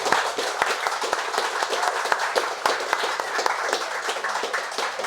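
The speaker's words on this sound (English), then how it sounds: "just want a big round of applause, please, for David Forde" A live pub audience at the Claddagh Ring applauds David Forde, with sharp, dense clapping and a few louder individual claps at a steady level throughout.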